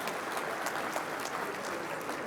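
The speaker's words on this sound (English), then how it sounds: "So please, big round of applause for the Consul General doing an outstanding job." Fairly faint, steady applause from a reception crowd at the grand opening of the Seattle Indian Consulate, an even wash of clapping that continues throughout without any voices.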